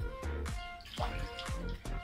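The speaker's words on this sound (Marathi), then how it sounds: "त्यामध्ये मी आता 2 कप पाणी घालते" Two cups of water pour into a pan in short gurgling glugs, each with a rising ringing tone, close by and fairly quiet.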